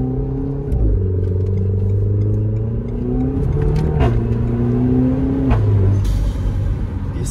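A Renault Mégane 4 RS accelerates hard, its engine note climbing through several gears with short dips at each shift, loud and close, with crackling exhaust pops between shifts.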